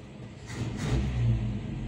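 A Toyota Kijang 7K engine running at idle after carburetor cleaning, a close, low rumbling hum that holds steady with a mild swell in the middle, no voices.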